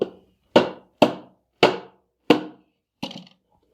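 Five hard hammer blows strike bent metal at a steady, deliberate pace, hammering the bends back while laying sealing rubber, each ringing briefly before fading, followed by a lighter sixth tap.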